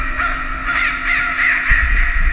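A crow caws loudly and close in the horror video game Layers of Fear, a harsh, sustained raspy call with slight rises and dips, heard alone with no talking.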